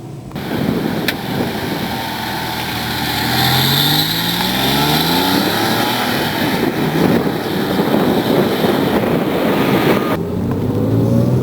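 A Porsche 911 GT3 driving on the road, its engine note rising and shifting through gears under heavy wind rush, loud and continuous from inside the car.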